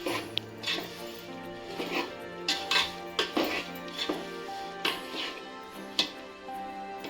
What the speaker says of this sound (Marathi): आता आपण त्यात गूळ टाकून घेऊ प्रथम गूळ बघा एकदम पूर्णपणे आपल्या तुपामध्ये मिक्स करून घ्यायचं